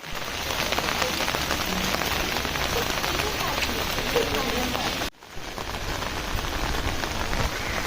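Heavy monsoon rain at Matheran pours steadily onto nearby surfaces, a dense loud hiss with no break except for a brief dip, and a voice is faintly heard talking beneath it.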